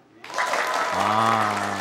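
An audience at a school event in Air Kumbang claps again, a brief burst of dense applause that starts suddenly and holds steady, with a voice calling out over it.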